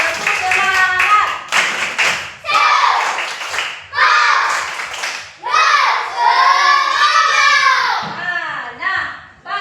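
Children in a classroom perform a rhythmic spirit clap, loud bursts of hand claps in patterned groups mixed with excited young voices chanting and talking throughout.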